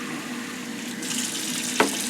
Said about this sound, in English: And once they are washed, I'm going to put them in this water